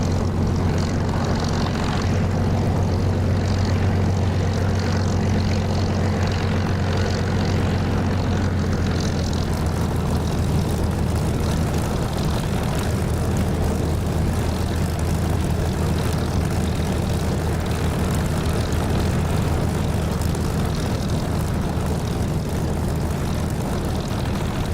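Aircraft engine idling steadily while taxiing in the DCS flight simulator, a loud continuous propeller drone with a strong low hum and broad rumble, unbroken for the whole stretch with no talk.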